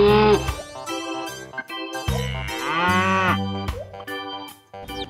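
A cartoon black cow moos loudly in several long, drawn-out calls while being loaded onto a tilting truck, each moo rising and falling in pitch with short gaps between.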